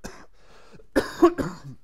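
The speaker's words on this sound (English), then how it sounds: "there's going to be a lot of coughing on my end today" A few rough coughs in quick succession, close and moderately loud, following a soft exhale.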